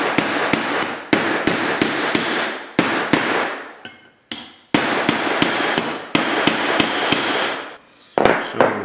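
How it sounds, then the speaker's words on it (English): Metal rivets on a custom knife handle take sharp, close hammer strikes in quick rhythmic bursts, each sharp crack followed by brief pauses, loud with no talk. "and now they are getting hammered down."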